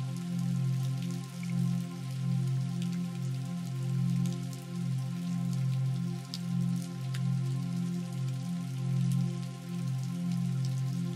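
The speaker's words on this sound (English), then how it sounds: "The sound of the rain allows you to go deeper and deeper into a state of relaxation." Steady rain patters with scattered drips, laid over a low, softly pulsing drone in a relaxing sleep soundscape; the sound stays even and continuous throughout with no voices.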